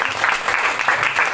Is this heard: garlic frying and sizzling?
no